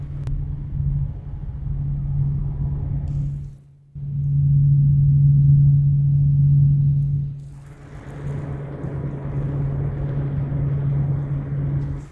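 Razer Kunai Chroma PC case fan spinning at 50% speed, 1200 RPM: a steady, loud low hum with a strong tonal drone, a brief dip near four seconds and broader airy whoosh in the later part, no talking.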